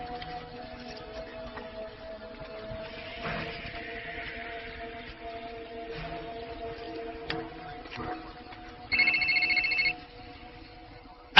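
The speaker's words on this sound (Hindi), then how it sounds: "अरे भाई ग्रेग, कौन है फोन में देखो।" A telephone rings in a tense scene of a Hindi-dubbed Hollywood action horror thriller, a short bright electronic trill standing out for about a second over a steady droning background.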